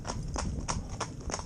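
Hooves of two Gypsy Cob horses, Rooster and Reuben, driven in tandem, a brisk, regular clip-clop of hoofbeats on a hard surface, about five crisp strikes close by, with no talk.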